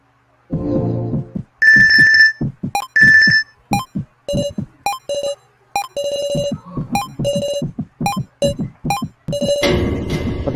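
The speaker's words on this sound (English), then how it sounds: "The tablet began making a sound." A tablet in the video game Your Turn To Die rings with a repeating electronic ringtone, bursts of melodic beeps in a steady pattern, loud and alone, ending in a brief noisy wash.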